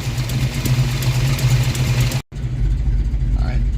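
A Ford Mustang engine with a replacement used radiator idles steadily with a low, even rumble, briefly cut off by a short gap before the hum continues.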